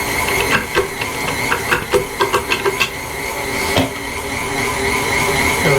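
An electric meat grinder grinding beef for jerky and burgers, with a loud continuous motor whir and a run of rhythmic knocks and clatters as meat is pushed through, then steady grinding.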